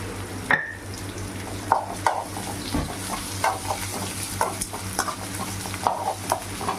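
Onion and green chilies sauté in oil in a pan for a potato and tomato sothi, giving a soft, steady sizzle. A spoon scrapes and taps against the pan in irregular strokes, and no one speaks.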